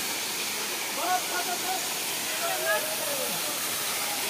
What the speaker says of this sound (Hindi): ये आपका साइका वाटरफॉल।